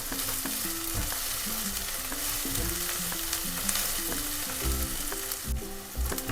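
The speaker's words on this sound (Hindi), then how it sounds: "ये देखिए ये प्याज भुन गई है, इसने ऑयल छोड़ दिया है" Onions fry in oil for pav bhaji, browned lightly and releasing their oil. A loud, close, continuous sizzle runs under repeated rhythmic spatula scrapes and knocks against the pan, with no talk.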